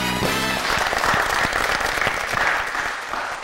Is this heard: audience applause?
yes